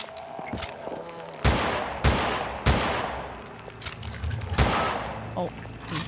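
Gunfire in the survival horror game Holstin, several sharp loud shots spaced apart over a steady background bed, with a few quieter clicks between them.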